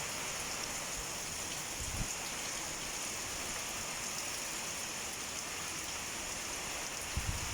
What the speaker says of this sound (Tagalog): halos maghapon na po yung ulan